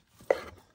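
A knife cuts a single slice through shiitake mushrooms on a board, giving one short, soft thud with a faint crisp edge and nothing else around it.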